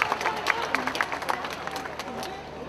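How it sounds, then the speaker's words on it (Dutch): A crowd applauds for the heath queen and heath princess at an opening evening, scattered claps and crowd noise at moderate distance. "Dames en heren, een applaus voor de heidekoningin en de heideprinses."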